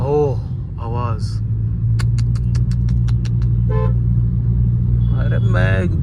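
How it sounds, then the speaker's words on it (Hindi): A new Mahindra XUV with an aftermarket exhaust holds a low, steady engine drone and exhaust rumble throughout. Several sharp ticking clicks and short tonal squeaks break through it, and people talk briefly over the hum. "मेरे को अपनी एक्सयूवी की आवाज ऐसी लग रही है, पता नहीं कौन सा जहाज है"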